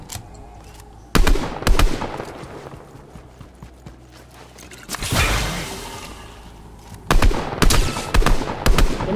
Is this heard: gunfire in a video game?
yes